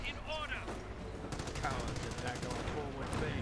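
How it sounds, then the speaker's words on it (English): Browning machine gun firing in the Company of Heroes video game, rapid bursts of faint, distant gunfire under a commentator's voice. "You can see Browning is just kind of firing away here."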